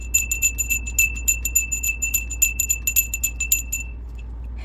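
A small handbell rings rapidly during a cleansing spell, with bright, clear strikes in a quick, jangling rhythm up close, then falling silent near the end.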